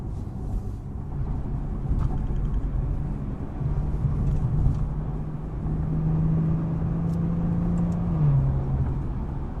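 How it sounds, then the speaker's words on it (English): A 2016 Maserati Ghibli S Q4 cruises with a low, steady engine rumble, its pitch lifting and then dropping as it shifts gears, a soft grumble at moderate distance with no talking. "you can hear it when it shifts. It's like it makes a nice grumble."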